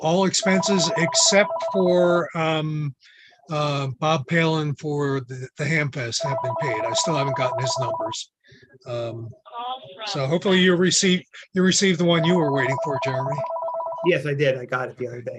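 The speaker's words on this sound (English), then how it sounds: "Sorry about that phone" A telephone rings three times in repeated electronic trill bursts during a club meeting, heard clearly under continuous close talk from people discussing business.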